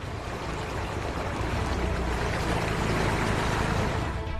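Strong, fast river current churning around a motorbike being pushed across the water, a loud, continuous broadband roar of rushing water with no breaks and no voices.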